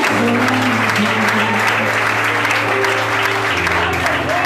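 A church congregation claps during a Portuguese-language sermon, a steady, dense round of applause with a sustained organ-like musical tone underneath throughout.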